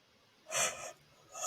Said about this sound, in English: That was an ugly yawn